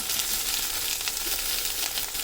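Washed dry anchovy fish is added to shallots frying in oil for a village-style dry fish curry, giving a steady, loud, close sizzle with no talk.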